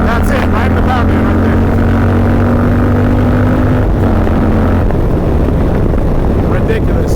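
A Goldzilla motorcycle fitted with a race cam runs hard around 80 mph in a lower gear near 4,000 RPM, its loud engine drone rising and holding steady with a rider talking over it.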